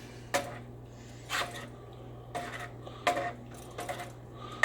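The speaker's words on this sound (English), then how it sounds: "Stir that to dissolve it." A utensil stirs rice in a small pot heated by tea light candles so that a bouillon cube dissolves. It makes close, intermittent scrapes and clinks against the pot, with quiet pauses between strokes.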